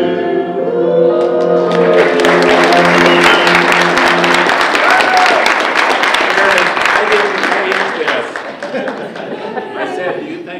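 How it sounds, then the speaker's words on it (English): A live audience claps enthusiastically at a bellringing campaign event, a dense burst of applause with some cheering and chatter that swells at once and then tapers off toward the end, while a voice speaks at the start. "One more round of applause."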